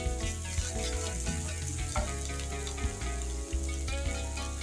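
Ginger and garlic frying in hot oil for a single serving of stir-fry beef spaghetti, a loud, steady sizzle filling the whole clip, with a few clinks of a utensil against the pan.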